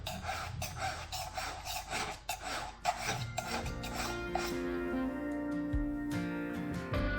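A file rasps across the tooth tops of a chainsaw chain during sharpening, a quiet repeated scraping stroke at a steady rhythm that gives way to a steadier background hum toward the end, no talking.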